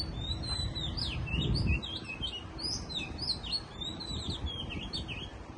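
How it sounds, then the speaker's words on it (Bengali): Several birds sing in a shady park in Bangkok beside a lake, with bright chirps and short whistled phrases overlapping throughout over a low background rumble. "আপনার সুন্দর পাখির শব্দ শুনতে পাচ্ছেন।"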